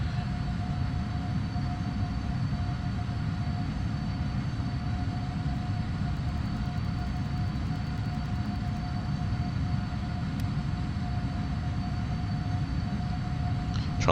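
A PMDG 777F freighter jet climbs after takeoff in the Prepar3D flight simulator, a steady, dense engine roar with a faint high whine that holds unchanged throughout.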